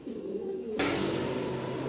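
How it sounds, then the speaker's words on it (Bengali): A male racing pigeon gives a short, soft coo up close, a low throaty call that cuts off abruptly and gives way to a steady background hiss. "এখানে এক পিস রেস করা নর কবুতর আছে"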